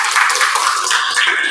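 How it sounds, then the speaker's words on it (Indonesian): Schoolchildren in a classroom clap together, a dense burst of quick overlapping claps that goes on loud and close for a moment, with no talking. "beri tepuk tangan buat kita semua"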